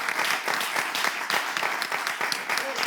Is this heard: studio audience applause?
yes